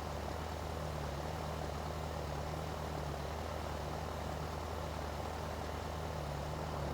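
A tractor engine in Farming Simulator 19 runs at a steady idle throughout, a continuous low drone with a constant hum and no breaks, heard alone.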